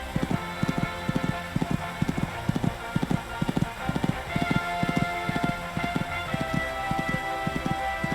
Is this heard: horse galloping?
yes